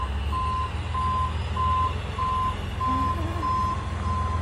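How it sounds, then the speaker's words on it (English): A large truck reverses on cleared rural land, its backup alarm beeping steadily at a regular pace over a low, constant engine rumble heard from a moderate distance. "That's a big truck."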